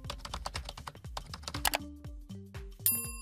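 Rapid clatter of keys on a computer keyboard while typing into a notebook, the irregular clicks close and crisp, ending in a few sharper, separate key presses.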